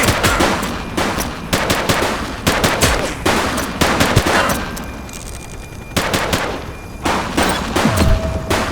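A police shootout in the video game The Precinct gives loud, dense gunfire, with rapid repeated shots and automatic bursts firing almost continuously with little pause.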